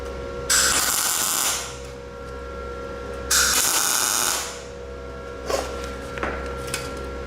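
SIP Autoplus 130 MIG welder laying tack welds on standard MIG: two loud crackling bursts of about a second each, then a couple of short sputters, with a steady hum between them.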